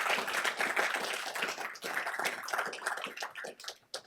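An audience at a startup demo day applauds its founders and investors, a scattered, uneven patter of clapping hands that rises and dips, fairly quiet and close, thinning out toward the end.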